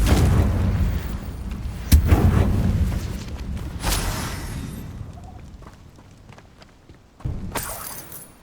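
Confringo blasting spells go off in the Hogwarts Legacy video game, with loud booming, shattering explosions at about two, four and seven seconds, each trailing off into debris and rumble.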